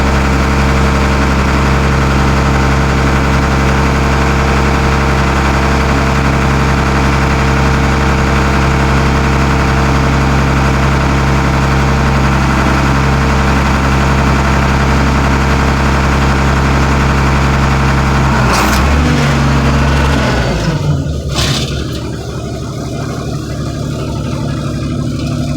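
A car crusher's engine runs steadily at a loud, even idle while the hydraulic ram is drawn back into its cylinder, with a brief clatter and change in tone near the end.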